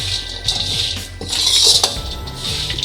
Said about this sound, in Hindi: अब मैं इनको इसी घी के अंदर भून के थोड़ा सा इनको फ्राई कर लेते हैं